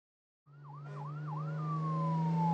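A Dutch fire engine siren wails in a few rising and falling sweeps, then settles into a single steady tone over a loud engine drone, growing louder as the vehicle approaches.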